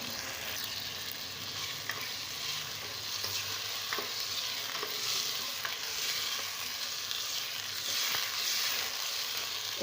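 Minced meat frying with ginger garlic paste in a pan for a potato keema curry, a steady close sizzle with occasional scraping stir clicks throughout, no voices.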